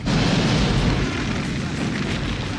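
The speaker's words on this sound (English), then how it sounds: "But even an explosion isn't enough to stop this maniac." A movie explosion from The Running Man rolls out as a deep, heavy boom that holds loud and dense for the whole moment before easing slightly, with voices mixed in around it.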